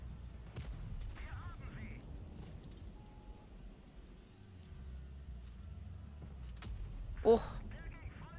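A tank cannon fires once in World of Tanks Blitz, a single sharp loud boom near the end, following a low rumbling engine bed with scattered game effects.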